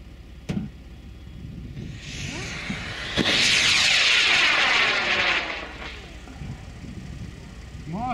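A model rocket lifts off on an I-205 motor at a certification launch, a loud broad roaring rush building over several seconds and then fading, with people talking before and after.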